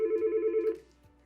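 An incoming call rings on a 3CX business phone system, one steady electronic ring tone lasting under a second, fairly loud and close, then cutting off with no talking.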